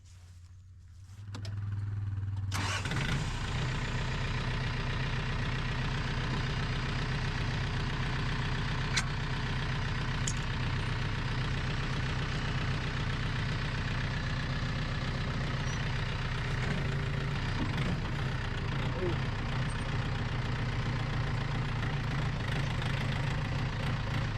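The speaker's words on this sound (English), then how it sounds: "The engines in the modern John Deere tractors are still made by Yanmar." A modern John Deere tractor with a Yanmar engine idles close by, a steady low rumble that starts after a short quiet moment and holds even and unbroken to the end.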